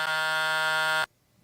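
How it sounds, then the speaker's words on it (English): A game show buzzer sounds during a streamer quiz game, one loud sustained harmonic buzz lasting about a second before cutting off sharply to near silence. "Anybody want to buzz in?"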